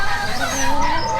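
A small rooster in a breeding flock clucks and calls nearby, a short run of throaty fowl sounds over other bird noise.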